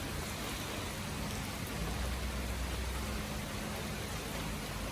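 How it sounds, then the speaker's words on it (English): Steady rain hisses as a continuous broadband wash, fairly faint and even throughout, with no voices or other distinct sounds. "there comes the rain falling"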